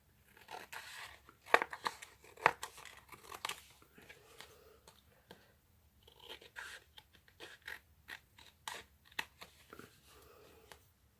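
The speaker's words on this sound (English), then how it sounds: "I'm just going to snip them off with scissors" Scissors snip paper for a card: several sharp snips and crisp crinkling bursts, irregular and close, with quiet pauses between cuts.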